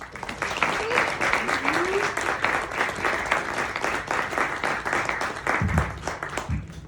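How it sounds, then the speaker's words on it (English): An audience at a holiday concert applauds steadily as a singer comes to the stage, dense clapping throughout, with a couple of brief voice sounds and low thumps near the end. "let's give a round of applause for Miss Camille Groves"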